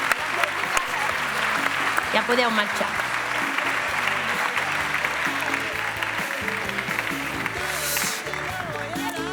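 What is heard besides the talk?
audience applause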